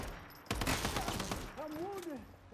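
A burst of rapid automatic gunfire from the shooter video game Once Human, loud and close, followed by a speaking voice.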